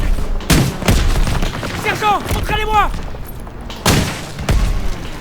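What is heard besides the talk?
gunfire and explosions in a WWII video game battle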